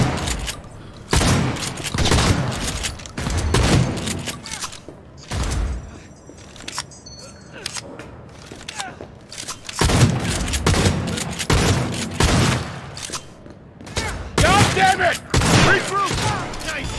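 Gunfire rings out in repeated bursts during Cyberpunk 2077 gameplay, loud sharp volleys separated by short lulls, with in-game voices shouting between the shots.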